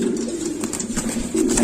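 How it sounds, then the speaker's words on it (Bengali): A pair of pigeons in a fancy pigeon loft coo in low, throaty repeated rolls, close and clear, with no talk over them. "এখানে আছে অনেক সুন্দর এক জোড়া কবুতর"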